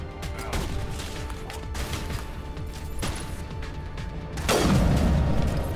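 Gunfire from Geth snipers in the video game Mass Effect Legendary Edition, a run of sharp cracks over dense battle noise, with a heavier burst near the end.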